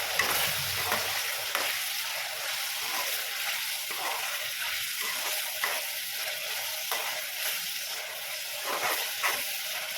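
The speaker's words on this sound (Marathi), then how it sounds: "तेल छान गरम झालेलं आहे आपण त्यात सगळे चिकनचे पीस सोडणार आहोत आणि छान तळून घेऊ" Chicken pieces frying in hot oil in a kadai over a medium flame, a steady loud sizzle with crackling bursts running throughout, no voices.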